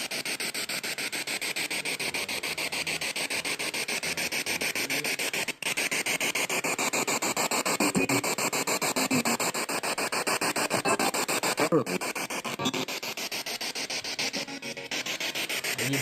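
SB7T Spirit Box radio sweeping through stations inside a building, a continuous harsh hissing, scratchy static with rapid choppy sweep texture, steady and loud throughout with a brief dropout partway through.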